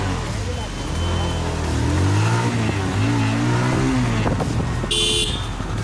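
A TVS Apache motorcycle accelerates on the road, its engine note rising and falling as it revs through gears, loud and close under wind noise, with a person speaking over it.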